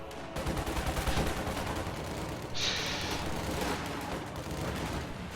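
Autocannon fire in a video game battle, continuous loud rapid shots and blasts layered with other gunfire, no voices over it.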